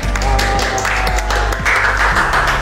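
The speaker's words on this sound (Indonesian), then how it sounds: "Oke, tepuk tangan buat kita semua." A podcast audience gives a round of applause, a thick, continuous patter of many clapping hands at fairly loud level, with a low hum underneath and no clear talk.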